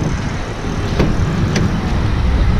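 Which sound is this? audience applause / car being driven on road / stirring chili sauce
car being driven on road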